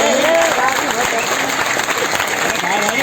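Audience applause at a health awareness and business opportunity program in Jaora, with dense, steady clapping filling the whole stretch at close, loud level.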